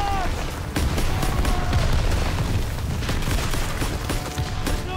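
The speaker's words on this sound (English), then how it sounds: "Get down! Artillery" Artillery barrage in the Call of Duty WWII campaign at Hill 493: a dense run of heavy booms and rattling gunfire keeps up without a break, close and loud, with shouting voices mixed in.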